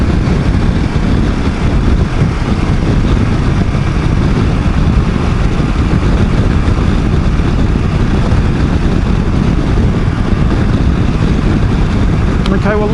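Ducati DesertX motorcycle being ridden, its engine a constant loud rumble heavily buried under blustery wind noise on the microphone, unbroken throughout.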